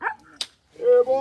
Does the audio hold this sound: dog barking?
yes